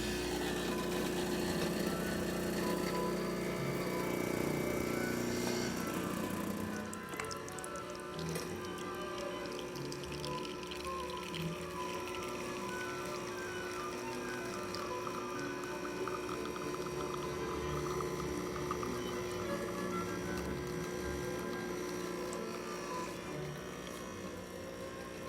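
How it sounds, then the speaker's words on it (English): An ECM Giotto espresso machine, newly fitted with a replacement pump and control board, brews a shot with a steady droning pump hum and liquid flow, louder for the first seven seconds, then continuing evenly throughout. "Today we're testing this ECM Giotto espresso machine."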